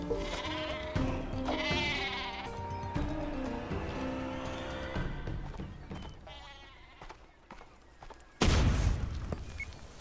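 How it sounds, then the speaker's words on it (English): A sheep bleats in the Worms Battleground video game, surrounded by game music and effects, then a loud explosion booms near the end. "An exploding sheep."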